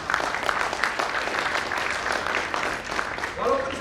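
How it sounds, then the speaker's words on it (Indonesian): Applause at an Indonesian national seminar on economics and business careers, a continuous crowd of clapping at moderate level with voices mixed beneath it. "Tepuk tangan dulu buat FOSIP."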